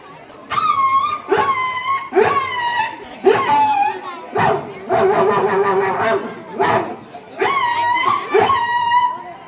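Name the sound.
voice imitating a dog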